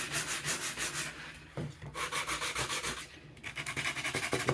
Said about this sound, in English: take your sanding block, and all we're going to do is clean up some of the edges